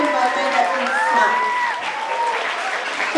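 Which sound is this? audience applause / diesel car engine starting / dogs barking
audience applause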